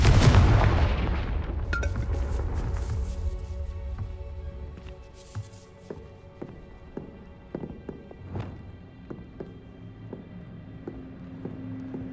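Confringo fire spell blast in the video game Hogwarts Legacy, aimed at a wall in a dead end: one heavy booming explosion at the start, then scattered clattering of falling debris fading away.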